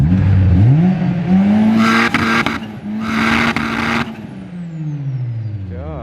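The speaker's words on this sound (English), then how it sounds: "These guys are just over here revving this thing." A Nissan Skyline R32 GT-R engine revs hard nearby, pitch climbing and falling through repeated bursts of throttle, loud and throaty, then settling to a lower idle.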